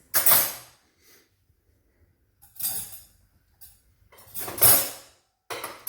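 Metal cutlery clattering as spoons and knives are sorted from an emptied dishwasher into a kitchen drawer, coming in four separate bursts of jangling and clinking with quiet gaps between them.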